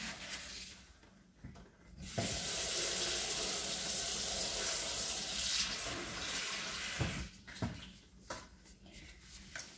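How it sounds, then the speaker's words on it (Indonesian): Water runs from a tap for hand washing during a home drain-unblocking job in Austria, a steady broadband rush that starts after two seconds, holds for about five seconds, then tapers off with a few splashes. "Kasih air dulu di sini buat cuci tangan"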